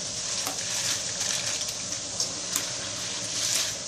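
Jackfruit chips fry in hot oil with a steady, dense sizzle and bubbling hiss that fills the whole span, broken by a few brief louder crackles, close up and with no talking.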